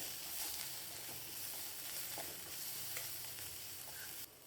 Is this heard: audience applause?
no